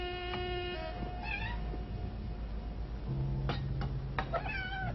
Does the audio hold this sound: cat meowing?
yes